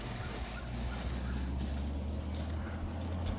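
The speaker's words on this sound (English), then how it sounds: "Rich Solar 3000 watt inverter, running this air conditioner" A constant low droning rumble with broadband hiss as an air conditioner in a van runs steadily nearby on a 3000 watt inverter and lithium batteries.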